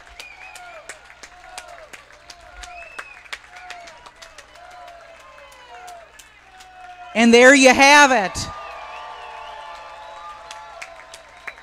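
Spectators at the 2024 USMS Summer Nationals women's 100 backstroke swimming race break into a loud burst of cheering and applause for about a second and a half, set between stretches of an announcer talking over a quiet pool deck.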